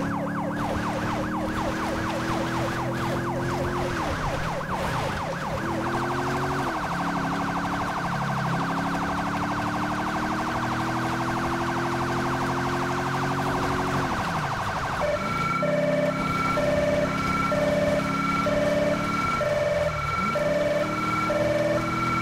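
Federal Signal Delta police siren in GTA V blares loud and constant, shifting between rapid yelping and wailing sweep patterns, layered with a second tone, with no speech.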